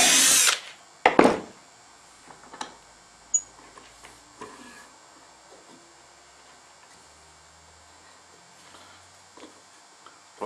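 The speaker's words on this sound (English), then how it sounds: "and drill your next hole." Two short, loud bursts of a power drill boring a dowel hole through a Dowelmax jig into a wooden tabletop, followed by quiet with scattered small clicks and knocks.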